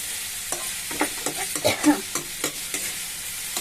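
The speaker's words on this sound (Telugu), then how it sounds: "ఇది కూడా కొంచెం వేగాలి." Chopped onion, green chilli, tomato, carrot and bottle gourd frying for curry in a pan, with steady soft sizzling and several distinct stirring scrapes close by, no voices.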